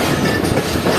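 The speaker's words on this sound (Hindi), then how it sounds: "तो इस वक्त ट्रेन प्लेटफॉर्म नंबर 1 पर लग रही है," Hazara Express train arriving at platform 1 on the Karachi line, a loud, steady rumble of rolling wheels and railcars close by, continuous broadband rail noise with no voices.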